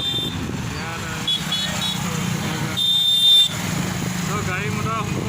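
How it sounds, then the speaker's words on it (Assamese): Cars and motorbikes pass steadily along a road, a continuous traffic wash with a brief horn toot, and people's voices are heard over it. "গাড়ী মটৰ সম্পূৰ্ণভাৱে এতিয়া চলাচল হৈ আছে"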